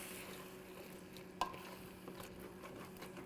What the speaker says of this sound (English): I like a hearty stew, so I put the whole can, but you can easily put half a can and it'll taste phenomenal. Give it a good stir.